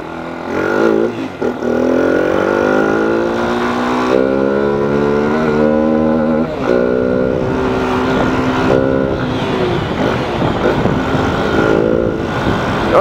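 A fuel-injected Yamaha Fazer 250 motorcycle being ridden: the engine revs up and shifts through rising and falling pitches, loud and close, with repeated pulls and a rough, busy engine note toward the end.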